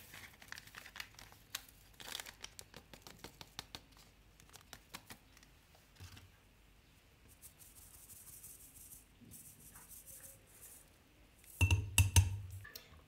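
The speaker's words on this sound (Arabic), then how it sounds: "دوكا ندير كيس تاع الخميرة" A yeast sachet is torn open and its contents poured for a spiced bread dough, heard as crinkling and rustling of packaging with small taps, close and fairly quiet, and a louder burst of handling near the end.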